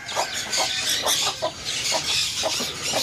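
Chickens cluck repeatedly in a dirty homestead chicken pen, a steady busy flock chatter of short bursts close by, with no talk.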